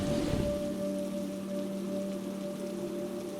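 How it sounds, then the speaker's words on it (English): Steady heavy rain pours down, a dense continuous hiss of drops with a faint low tone beneath. "But when the rain began to pour on the third night"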